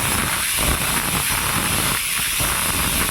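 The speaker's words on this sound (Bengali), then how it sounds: "গ্যাসটা জ্বালিয়ে দিয়েছি" A lit gas stove burner gives off a steady, broadband hiss that runs unbroken and fairly loud from start to finish, with no voices over it.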